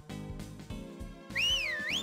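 A shrill, rising-and-falling whistle in Harvest Moon: Magical Melody sweeps up and down in the second half, following a stretch of soft, bouncy game music.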